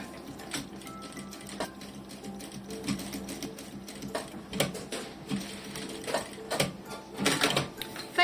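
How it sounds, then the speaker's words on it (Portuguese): Sewing machine stitching a zipper onto nylon fabric, a close, rapid mechanical whir and clatter running in short bursts with brief pauses between; no voices. "vamos fazer aqui uma costura pé de máquina"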